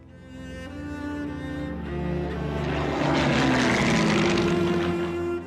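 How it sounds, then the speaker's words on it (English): A Supermarine Spitfire's piston aero engine drones with steady harmonic tones, building from a rumble to a louder, fuller roar as the fighter passes close by. "The Spitfire aircraft was a marvellous aeroplane to fly."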